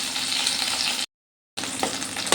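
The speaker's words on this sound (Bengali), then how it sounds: "এরপর মাছটা আমি উল্টে পাল্টে ভেজে নেব" Pomfret fish fries in hot oil with curry leaves, giving a loud, steady sizzling hiss close by, broken by a half-second silent cut before the frying resumes.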